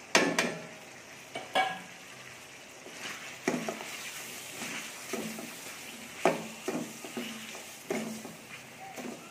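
Spices are stirred into beef karahi in a pan, heard as repeated scraping strokes of a spoon against metal with soft sizzling between them, steady and close with no talk.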